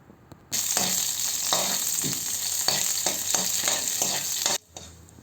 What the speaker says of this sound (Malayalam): എന്നിട്ട് നമുക്കിതൊന്ന് വഴറ്റിയെടുക്കാം